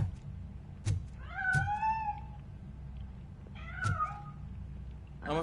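A cat meows in the Robocop Rogue City video game, two drawn-out meows a couple of seconds apart with a few soft thumps, set against a low ambient hum.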